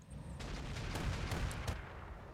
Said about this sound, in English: Heavy rotary rifle.